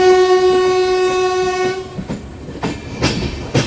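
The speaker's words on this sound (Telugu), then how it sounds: "కావేరీ ఎక్స్ప్రెస్. ఇది మైసూర్ చెన్నై సెంట్రల్ కావేరీ." The Mysore–Chennai Central Kaveri Express, an ICF-coach train, sounds a long loud horn blast near Basin Bridge Junction, then passes close by with rhythmic clattering of wheels over rail joints.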